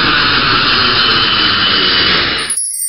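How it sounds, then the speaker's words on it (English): A loud, steady jet engine roar with a strong hissing whine, sustained and close, cutting off abruptly near the end. "Airplane."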